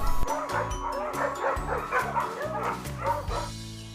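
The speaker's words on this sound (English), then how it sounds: "dog." A dog barks and yips in a quick repeated series over a musical backing, bright close barks in steady rhythm as part of a farm animal sound lesson.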